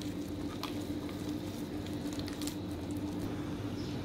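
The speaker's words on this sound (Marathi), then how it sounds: "हे सोडा घालून चांगलं मिक्स करायचं आहे।" Fenugreek fritter batter with a pinch of baking soda being mixed by hand, giving soft, continuous wet squishing and patting throughout, close and steady with no talking.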